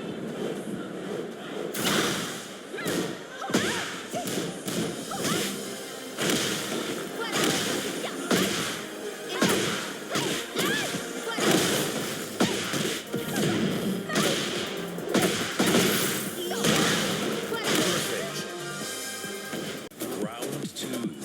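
Close-range fighting game hits from Tekken: a dense barrage of sharp thuds, whip-like smacks and swooshes, rapid and continuous for about twenty seconds, with brief voiced shouts mixed into the impacts.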